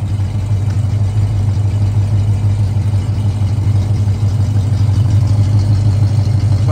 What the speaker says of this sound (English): Those dual exhausts sound good